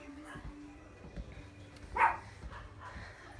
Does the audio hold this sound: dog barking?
yes